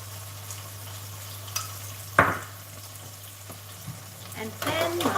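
Pak choy and mushrooms stir-frying in sesame oil, a quiet steady sizzle with a sharp utensil scrape near the middle and louder stirring toward the end, over a low constant hum.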